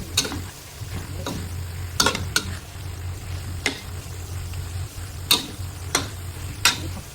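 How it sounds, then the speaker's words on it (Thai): Minced pork in a pan being stirred with chili flakes, a soft continuous sizzle under a series of sharp spatula clicks and scrapes against the pan at irregular intervals. "ใส่ลงไปอย่างนี้เราชอบเผ็ดนะคะทุกคน คลุกเคล้าให้เข้ากันเลยค่ะทุกคน"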